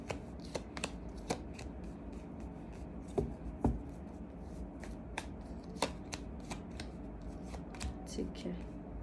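Tarot cards are shuffled close by in a rapid, irregular string of riffling flicks and sharp snaps that runs the whole time, with a soft room murmur behind it.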